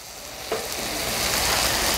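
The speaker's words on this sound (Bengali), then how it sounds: "এইটাকে আমি একটু নাড়াচাড়া করে নিব মিনিট খানেক, যাতে একটু ভাজা ভাজা হয় আর কি মশলাগুলা, বিশেষ করে কাঁচামরিচটা" Spices and green chili sizzle steadily in a hot pan while being stirred for South Indian potato varuval, with coriander and chili powder in the mix; a bright, continuous crackling hiss with a scrape of the spoon near the start.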